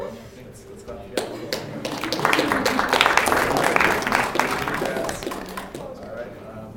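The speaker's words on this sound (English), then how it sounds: "Let's clap together" Members of a student senate applaud together to welcome a new member, a steady wash of clapping that builds from about one second, holds through the middle and tapers off, with faint voices underneath.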